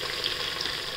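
Curry leaves dropped into hot oil for a spiced green-masala rice dish, giving a steady, close sizzle that holds evenly throughout with no voices.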